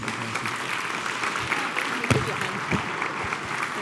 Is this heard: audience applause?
yes